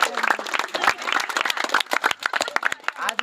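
An audience at a Balaji Premier League Season 1 event claps together, producing a dense, close, steady patter of many hands that holds for about three seconds with no talking.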